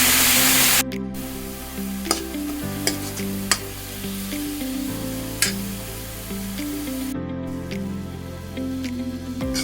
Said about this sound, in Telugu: ఇప్పుడు ఆనియన్ ఇప్పుడు పాలకూర పాలకూర వేసుకొని కలుపుకుంటాము